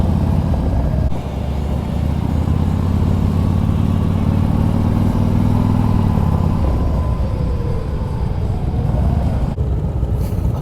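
Crowd of motorcycles at the 2022 Sturgis Motorcycle Rally, a dense, continuous rumble of many engines idling and revving together, loud and close with no talk.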